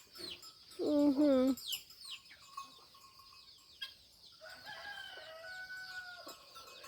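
Farmyard chickens on a rural flower farm cluck and squawk, with one loud rising call near the start followed by softer scattered clucks and bird chatter, fairly close, no talk.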